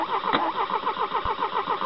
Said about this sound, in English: even the sound of the engine communicates to him